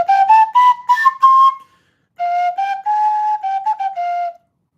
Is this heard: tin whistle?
yes